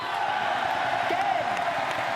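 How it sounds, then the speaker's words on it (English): A large crowd roars and cheers steadily inside the Porte de la Chapelle Arena at the Paris 2024 Paralympic Games, forming a dense, sustained wall of noise. "fully utilising the noise from the crowd"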